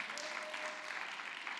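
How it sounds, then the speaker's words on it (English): A round of applause from an audience at a spiritual talk, heard as a faint, distant wash of clapping that holds steady through the short stretch. "let's give a round of applause to Jonathan Jesper"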